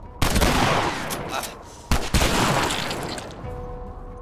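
Gunfire from The Last of Us as a player shoots an enemy: two loud, close bursts of rapid shots, each cut off sharply, with a short gap between and echoing tails fading afterward.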